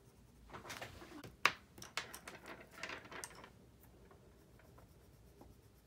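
Woodless pencil shaded with its side across drawing paper, quiet scratchy strokes with a few sharper taps, close up and fading toward the end.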